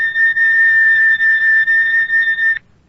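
A high, piercing electric oscillator tone at about 4,000 reversals per second, from a 1936 Columbia Workshop radio broadcast, holds steady and loud for over two seconds with a slight pulsing flutter, then stops sharply.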